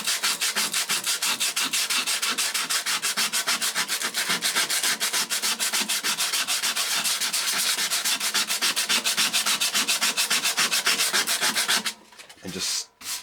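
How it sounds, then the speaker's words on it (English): Steady, close sanding with 60-grit sandpaper scrubbing corrosion off an old IBM ThinkCentre computer, a continuous rapid back-and-forth rasp that runs for about twelve seconds before stopping abruptly, followed by a few faint handling noises. "just sand at it like that until we can get rid"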